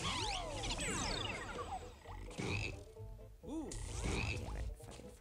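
Frogs croak in the video game BattleBlock Theater: several close, bubbly croaks in quick bursts, mixed with sweeping game effects and chirps.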